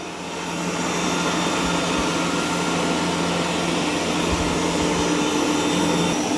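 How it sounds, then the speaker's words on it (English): An ECOVACS DEEBOT X2 Omni robot vacuum and mop, its mop pads lifted and suction raised, gives off a steady, loud, close whooshing roar that holds unbroken for several seconds with no talking. "now it auto lifted the mop pads and increases the suction."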